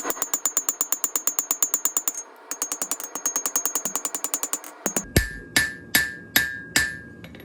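Blacksmith hammering a knife taper on an anvil: a fast, even run of ringing metallic blows with a brief break, then slower, heavier strikes that ring out longer.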